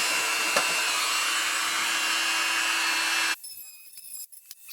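A Dremel 4300 rotary tool runs at speed 22, a loud, steady high-pitched whir that suddenly drops away and leaves a few faint clicks and handling noises behind.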